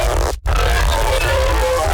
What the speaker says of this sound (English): Without the spectral gate, it sounded like this.